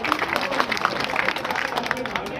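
An audience bursts into loud, dense clapping to welcome a guest at a VIP bank-opening event, a steady close wash of applause with crowd murmur running throughout.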